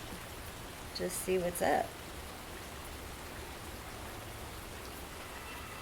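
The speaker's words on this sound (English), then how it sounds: "I'm in the rain." Steady rain falling outdoors, a soft, even hiss of drops filling the whole scene, with someone briefly speaking near the start.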